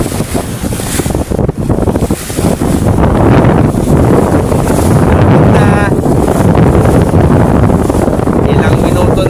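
Strong wind buffeting the microphone on a boat travelling between Dinahican and Pinag-agan, loud continuous roaring gusts mixed with engine and water noise, with people speaking faintly beneath.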